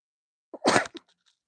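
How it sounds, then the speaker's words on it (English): A single sharp sneeze, close and loud, with a quick intake of breath before and faint breathy sounds after. "I'm going to sneeze."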